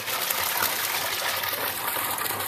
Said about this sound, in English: You do have the little water feature right here